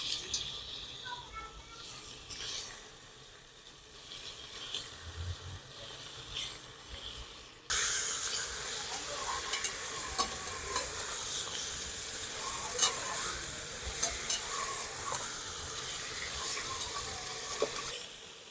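Mutton for Hyderabadi biriyani frying and stirred in a pan, quieter at first, then jumping to a loud, steady sizzle with repeated stirring scrapes, and some talking.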